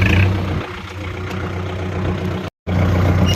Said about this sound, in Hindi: ट्रैक्टर भी भाई काफ़ी धीरे धीरे जा रहा है